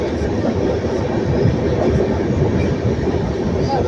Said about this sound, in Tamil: அப்படியே இறங்குது பாருங்கள் ட்ரெயினு, அப்படியே கீழே இறங்கும் பாருங்கள்.